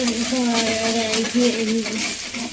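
Ginger sizzles and fries in a pan for a chana dal dish, a steady crackle with occasional stirring, while a voice speaks over it.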